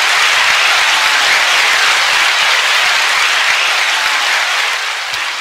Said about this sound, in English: y'all ought to give yourselves applause on that